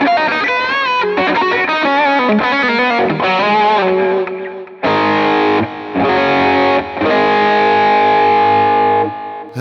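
A Fender Player Acoustasonic Telecaster plays a loud solo through a distortion effect, with quick bent and sliding notes giving way to long sustained, gritty held notes, close and alone.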